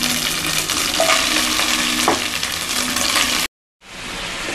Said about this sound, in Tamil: கொஞ்சம் இஞ்சி பூண்டு பேஸ்ட்டு இப்போ கொஞ்சம் எண்ணெயில் வதங்கினோன்னே இந்த சிக்கன் அதோடு சேர்த்துறேன்